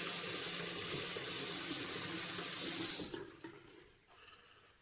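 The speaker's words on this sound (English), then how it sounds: "let me get a washcloth here and give my face a rinse" Water runs steadily from a bathroom tap into a sink as a face is rinsed with a washcloth, a bright constant hiss that cuts off near the end, leaving a few drips and small splashes.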